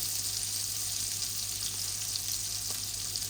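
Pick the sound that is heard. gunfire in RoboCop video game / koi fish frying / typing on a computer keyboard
koi fish frying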